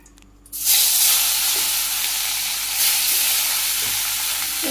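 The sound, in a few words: fish frying in hot oil in a wok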